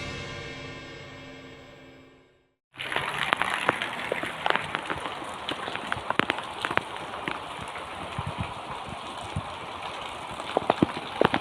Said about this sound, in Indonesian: Hujan mewarnai penangkapan Edi Kurniawan, seorang pencuri motor